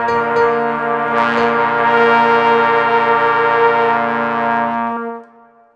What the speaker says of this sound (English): we've all been in groups where at some point we decide to tune, right? And it sounds like this.